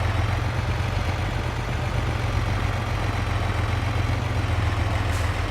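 Steady low engine rumble from a truck on a farm field during grass cutting, running continuously and fairly close as it is moved around, with no talk.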